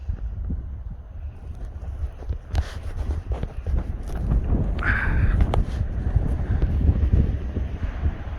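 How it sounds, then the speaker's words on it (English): Strong wind buffets the microphone at a Grand Canyon trailhead, a steady low roar with gusty swells throughout and no clear speech. "Here we are, and it's windy as all hell."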